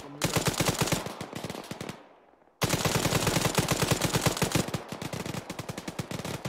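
Rapid automatic gunfire in a military video game session, loud dense bursts of machine-gun fire that break off briefly for about half a second and then resume, sustained and close, with no talk.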